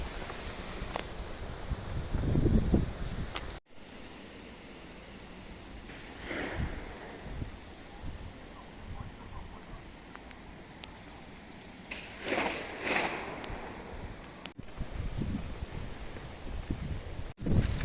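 Steady wind roars through an Italian forest with gusting swells and low rumbling buffeting, occasional rustles and brief bumps, no voices.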